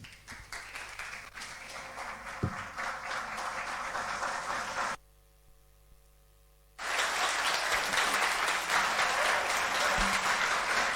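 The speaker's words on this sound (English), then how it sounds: "if you're listening to us on radio and you feel, believe, and think that applaud is loud" Loud crowd applause at a high school debate between Opoku Ware and Bompata Presec fills the hall, dropping out abruptly for about two seconds before surging back at full strength, a dense sustained roar of clapping.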